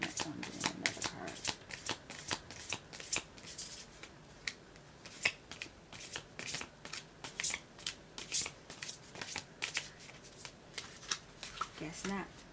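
Playing cards being shuffled at close range during a tarot reading, a steady run of sharp riffling snaps and soft rubbing bursts, with quiet background murmur.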